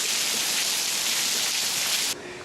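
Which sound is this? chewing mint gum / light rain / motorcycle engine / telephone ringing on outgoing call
light rain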